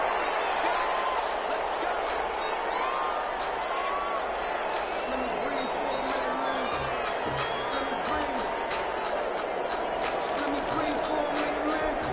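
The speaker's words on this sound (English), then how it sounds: "This crowd is ready as their guys get set to match up between the Green Bay Packers and the Minnesota Vikings." A football stadium crowd at a Packers at Vikings game gives off a steady, dense roar, and an announcer's voice runs over it throughout.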